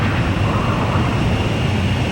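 Jet engines of fighter planes in Ace Combat 5 close in on a refueling aircraft, a loud, steady broadband roar with a low rumble holding even throughout.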